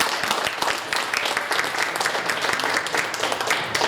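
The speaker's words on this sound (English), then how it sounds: "give them a nice round of applause." Audience at a Clark County District Attorney candidate interview event applauding the candidates, a steady dense wash of clapping from a moderate-sized crowd lasting throughout, fairly close and even in loudness.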